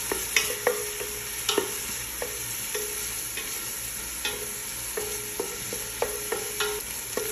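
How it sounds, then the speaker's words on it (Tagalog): Sliced hot chili and onions stirred in a frying pan: a steady sizzle underneath with repeated scraping strokes of the utensil in an uneven rhythm, close and clear. "Mimix ko siya dito sa sibuyas."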